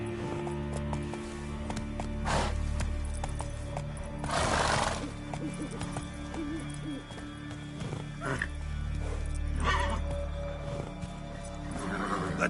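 A horse in The Witcher 3 galloping with rhythmic hoofbeats, broken by several loud neighs and snorts, all over steady game music and background ambience.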